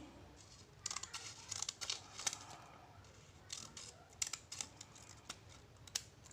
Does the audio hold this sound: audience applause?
no